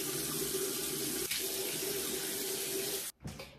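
Tap water runs steadily into a sink during face washing with a foam cleanser, a constant hiss that cuts off abruptly near the end, followed by a brief splash.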